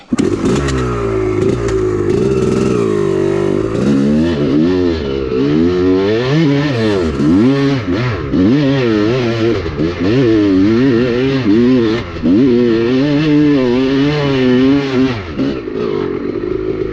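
A Honda two-stroke dirt bike with an R/C power valve revving hard, its engine rising and falling through repeated loud throttle blips and sweeping climbs, close and continuous with no talk.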